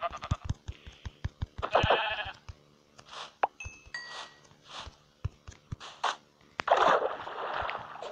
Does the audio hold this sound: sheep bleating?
yes